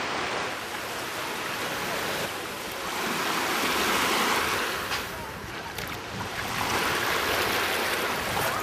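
Sea waves roll onto the shore of Ko Samet island, Thailand, a loud continuous wash of surf with swelling and receding surges, mixed with wind, and no talking.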